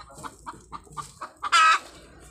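A chicken clucks in short repeated bursts, then lets out one louder, drawn-out squawk near the end, close by.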